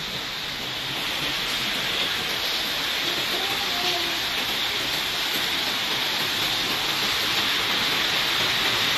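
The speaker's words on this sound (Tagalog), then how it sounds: "Ang ulan." Heavy rain pours steadily, a dense, loud wash of noise that stays even throughout with no pauses.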